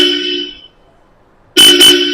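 Two car horns on a Toyota Land Cruiser, a newly installed Bosch Europa and the stock one, blare loud and close: one steady honk, a short silence, then two quick blasts.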